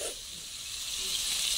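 Fish frying in a kadai over a wood-fired stove gives a steady, close hiss of sizzling oil that holds evenly throughout, with no voices.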